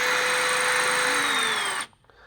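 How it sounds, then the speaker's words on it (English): A cordless drill with a 1/8 inch bit whirs steadily at high speed for nearly two seconds, pitch sagging slightly as it bites into a 1967-72 Chevrolet C10 kick panel, then stops abruptly. "take our 1/8 inch drill bit and our cordless drill"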